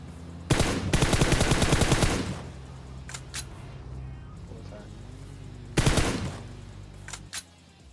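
AWM sniper rifle fire in PUBG Mobile during a Pochinki match: two loud, sharp bursts of gunfire with short decaying tails, separated by quieter stretches with a few faint distant cracks.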